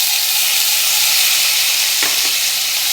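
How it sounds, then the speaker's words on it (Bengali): Onions frying in hot oil tempered with black cumin and green chilies, a steady loud sizzle throughout with a brief stirring scrape near the end. "এবারে ফোড়নের উপরে দিয়ে দেবো কেটে রাখা পেঁয়াজ।"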